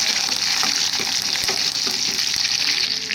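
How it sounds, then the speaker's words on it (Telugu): Loud, continuous sizzling of tempering spices crackling in hot peanut oil, with a spoon stirring through the pan. "నూనె వేడెక్కిన తర్వాత మనం తాలింపు రెడీ చేసుకున్నాం కదా అవి అయితే వేసుకోవాలి"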